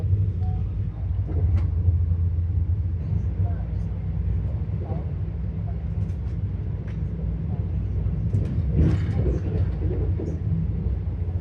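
A steady low rumble of a train rolling along the tracks as it nears Bardhaman Junction fills the clip, with faint clatter over it and a voice talking intermittently.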